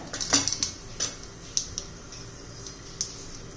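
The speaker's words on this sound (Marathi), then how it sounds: "तेल आता गरम झालेलं आहे तर थोडी मोहरी घालूया" Mustard seeds dropped into hot oil for tempering, producing scattered light pops and crackles, denser at first and then sparse and fairly faint against a quiet kitchen background.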